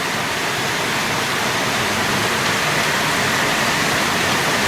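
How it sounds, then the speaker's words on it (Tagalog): Heavy rain pouring down in a loud, steady, dense hiss that fills the whole moment without pause and with no talk over it. "Ang tindi na naman ng ulan."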